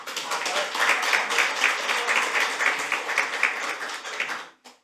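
Audience applause at a Korean legislative debate forum, with steady, sustained clapping from a room of attendees that fades out at the end.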